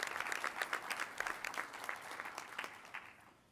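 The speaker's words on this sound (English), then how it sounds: "get a round of applause from all of you, the staff of the President's Council?" A meeting audience gives a round of applause to the President's Council staff, a dense, fairly distant patter of many hands that gradually fades toward the end.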